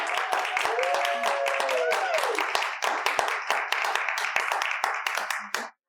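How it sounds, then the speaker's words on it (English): Lively applause from a crowd at a book launch celebration, many sharp hand claps close by with a voice rising over them, ending abruptly. "How about a round of applause?"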